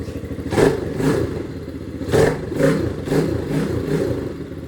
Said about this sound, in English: A lot of valve noise.